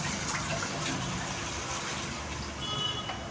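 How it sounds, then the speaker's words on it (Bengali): Water poured into a cooking pot while making shukto with ground mustard and poppy seed paste, a steady close gushing splash running the whole time. "এবার জল দিচ্ছি"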